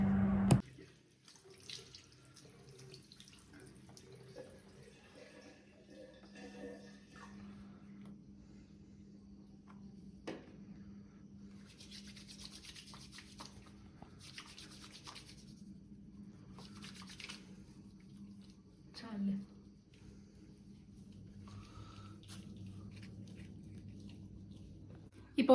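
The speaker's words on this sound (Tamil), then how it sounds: "நான் வந்து ஃபேஸ் வாஷ் பண்ணிட்டு வந்தேன். ரோசா ஃபேஸ் வாஷ் தான் யூஸ் பண்ணேன்." Tap water runs steadily into a sink while a face is washed with Rosa face wash, a continuous low splashing flow with a few brief knocks and shifts, fairly quiet and close with no talking.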